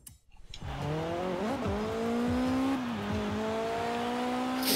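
A Mazda MX-5 hardtop with a two-litre engine revs hard in Forza Horizon 3, its sporty engine note climbing and dipping in pitch through repeated gear changes, loud and continuous for several seconds with no talk.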